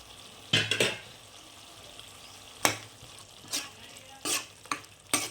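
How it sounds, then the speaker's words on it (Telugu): Chicken and tomato cook in a pan on a soft steady sizzle, broken by several sharp scrapes and clinks of a spoon stirring against the metal, close up and with no voices. "కుక్ చేయాలి కొంచెం టమాటా కుక్ అయ్యేంత వరకు చేయాలి"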